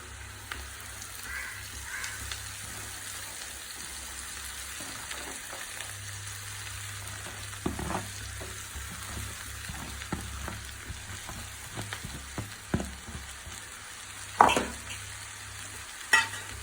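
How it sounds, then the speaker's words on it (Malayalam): Elephant yam leaves fry in a pan and are stirred now and then: a soft, continuous sizzle runs throughout, broken by scattered scraping and clinking strokes that grow more frequent toward the end, with one louder clatter near the close. "നമുക്ക് ചേനയുടെ ഇല ഇട്ട് കൊടുക്കാം"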